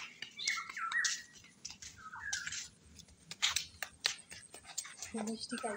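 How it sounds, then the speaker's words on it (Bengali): A kingfisher gives a few sharp, high squawking calls at close to middle distance, broken into short bursts over a low background rumble, with no talk over them. "মাছরাঙা পাখি এসছে মাছরাঙা পাখি"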